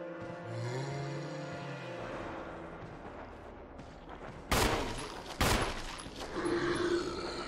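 Two sharp, loud gunshot blasts from a Resident Evil game ring out a second apart, preceded by quieter game ambience and followed by rumbling echoes.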